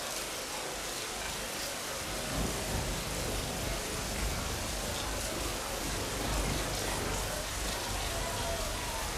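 Steady rain falling in an outdoor scene, a dense hiss of drops spread evenly across the whole stretch, fairly loud and continuous with no voices over it.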